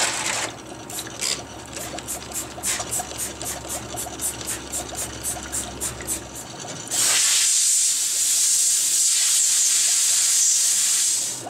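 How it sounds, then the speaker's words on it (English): Water rinses a zinc-plated steel handle, a loud steady spray hiss in the second half. It follows a run of rapid, even mechanical ticks. "I'm going to go ahead and rinse that off."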